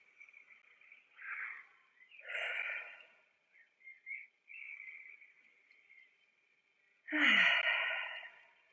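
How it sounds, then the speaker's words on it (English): Slow, deep breaths taken during a guided meditation, soft airy inhales and exhales spaced a few seconds apart, quiet and close with near silence between them. "let's just start with 3 deep breaths"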